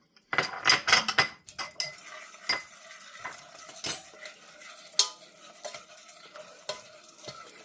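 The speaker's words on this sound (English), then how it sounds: "We're going to go ahead and mix that in to our melted butter and sugar" A spoon or utensil stirring flour, baking powder and salt into melted butter and sugar in a bowl, with irregular scraping and clinking strokes, louder at first then lighter and intermittent.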